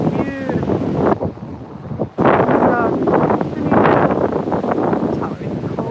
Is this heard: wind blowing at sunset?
yes